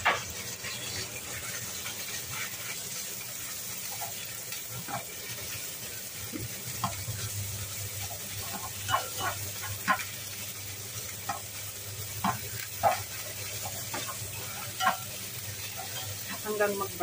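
Minced pork sizzles steadily in a hot pan, with scattered clicks and scrapes of stirring cutting through the continuous frying hiss.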